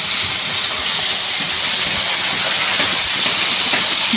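Water poured into a pan of fried onions and tomatoes bursts into a loud, continuous sizzling hiss, close and harsh and holding for the whole few seconds with no talk.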